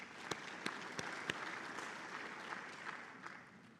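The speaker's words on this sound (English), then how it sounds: "Let me clap for them" A conference audience of African plant breeders gives soft, scattered applause, with a few sharp claps standing out early and a faint, diffuse patter of clapping after them, sounding distant and low.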